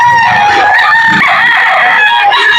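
A rooster crows loud and close, the drawn-out call filling the moment, with clucking from fowl mixed in and no voices over it.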